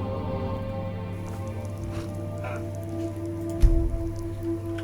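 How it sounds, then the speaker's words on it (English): Steady light rain pattering in Skyrim Special Edition, soft continuous drops over a low ambient hum, with a brief thump partway through and no talk. "It's actually light out, but it's raining again."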